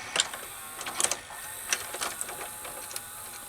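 Daytron VCR-32DAU VCR mechanism in play mode, probably with a mode switch fault, giving a faint mechanical whir with scattered small clicks and ticks, quiet and close with no voices.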